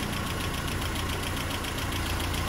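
Land Rover Series 3 engine held at full throttle, a steady loud broadband drone with an uneven knocking pulse suggesting hesitation, running continuously without talk.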